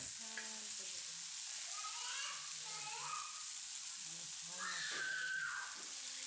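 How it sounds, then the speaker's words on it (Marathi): A soft, continuous sizzle of split chickpea lentils (chana dal) sautéing in a pan, with faint voices murmuring in the background. "इथं मी डाळ टाकून घेते तव्यात"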